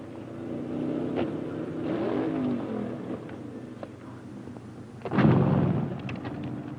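A 1950s hot rod engine rumbles at an inspection area, then bursts into one loud, roaring rev near the end before settling.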